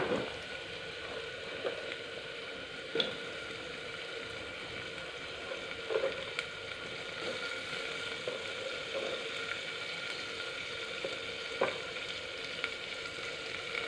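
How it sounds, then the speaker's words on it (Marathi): Chopped onion sizzling and frying in a hot pan for a mutton dish, a steady crackling hiss with occasional pops and stirring clinks, close and continuous, with a voice faintly heard at moments. "आता ह्यात आपण कांदा घालूया।"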